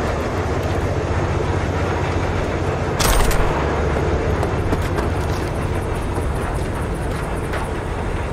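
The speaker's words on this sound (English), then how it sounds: "All right, the train's leaving." Train departing a station in Cyberpunk 2077, a steady rumbling roll of rail cars with a brief louder burst of hissing and clatter partway through, no talk.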